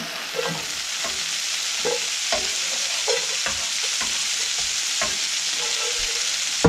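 Chunks of meat for Dublin coddle frying in a pot, a steady crackling sizzle with a regular series of scraping stirs about every half second to second, close and alone.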